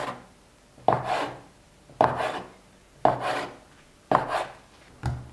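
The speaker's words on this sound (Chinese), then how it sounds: "切成大小均等的8份面剂" Knife cutting a long rolled log of bread dough into eight even pieces on a board, five separate soft thuds with brief scraping tails, spaced about a second apart, close and quiet with no talk.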